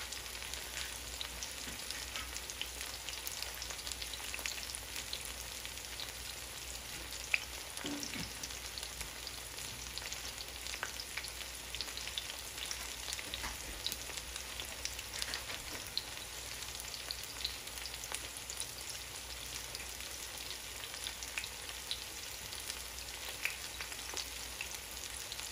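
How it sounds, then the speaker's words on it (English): Squash flowers frying golden brown in a pan give off a soft, even sizzle with faint crackles and pops, steady and fairly quiet throughout, with no voices. "Those squash are cooking up golden brown."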